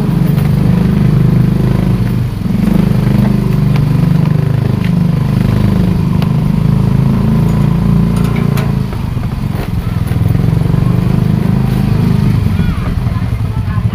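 A motorcycle engine runs steadily and loudly close by, a constant low drone with clattering, while people talk over it.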